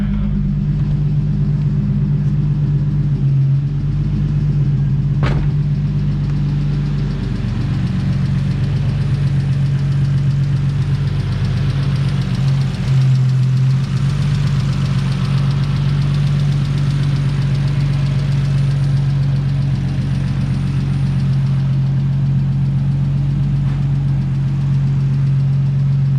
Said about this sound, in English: Trying to get old race cars started. It's always a process.